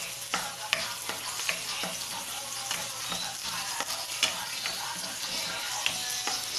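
Onions sauté in a pan for adobo, a steady close sizzle with regular scraping taps from a spatula stirring them, no one speaking.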